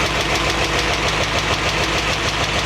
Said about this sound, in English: We've got the idle dialed in.